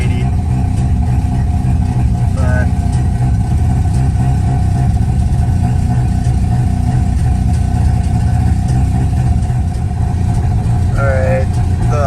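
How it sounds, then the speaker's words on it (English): A Mazda RX7 rotary engine idles high and steady while warming up after a sticking throttle body was cleaned, a loud continuous close drone with someone talking over it and brief squeaks. "now the idle's a good bit steadier."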